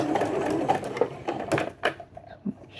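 An embroidery machine stitches a quilt border in short rapid bursts of mechanical chatter with brief pauses, close and moderately loud, and a faint voice can be heard in the background.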